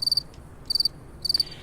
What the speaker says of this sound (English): And crickets.